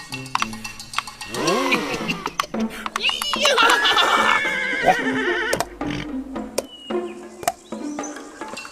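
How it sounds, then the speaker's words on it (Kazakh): A cartoon horse whinnies loudly with wavering neighs, followed by clattering hooves and clinking sounds, with a voice briefly heard alongside. "Шыдамсыз бір жігіт сол атқа мініп шапқысы келеді."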